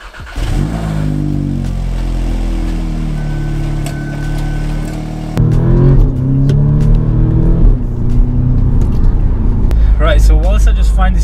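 A 2017 Audi S3 facelift with its 7-speed gearbox pulls hard through a 0-60 run on an empty road. The engine note climbs in rising sweeps, with a clear gearshift break partway through. It sounds loud and close, as if recorded from inside the cabin.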